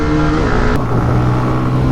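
Hero Xtreme 125R and TVS Raider 125 motorcycles in a drag race, engines roaring loud and close with no pause, and a brief change in tone early on as a gear shifts.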